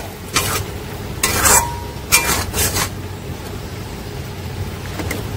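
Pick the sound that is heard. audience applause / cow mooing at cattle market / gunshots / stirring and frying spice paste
stirring and frying spice paste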